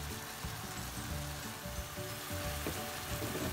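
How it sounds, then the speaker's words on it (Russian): Chicken for a buckwheat-and-chicken dish stews in a pan, giving a steady, close sizzle and gentle bubbling that runs evenly throughout with no voices. "после оставим все это тушить"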